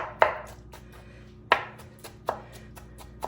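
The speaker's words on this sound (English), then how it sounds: "Go through here and just really chop this up" A knife chops diced onions and pickles on a cutting board for potato salad, making four sharp, distinct close strikes spaced irregularly with lighter taps between them.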